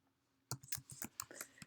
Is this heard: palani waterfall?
no